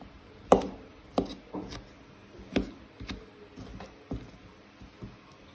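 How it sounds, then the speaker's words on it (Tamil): Boiled cassava is mashed with about eight dull, separate thuds at an unhurried, uneven pace, each one soft and short, with the blows fading slightly toward the end. "இப்போ இந்த மரவள்ளிக்கிழங்கை கொஞ்சம் நசிச்சு விட்டோணும்"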